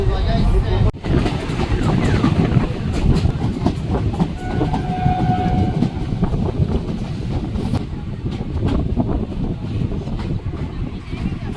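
A new passenger train running from Krishnanagar toward Azimganj rumbles steadily from onboard, with rhythmic clickety-clack of wheels over rail joints and wind buffeting the microphone throughout.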